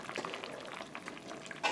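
Meat loaf simmering in a lidded Dutch oven over an outdoor fire, giving a soft, steady bubbling and sizzle, faint and close, with no talk.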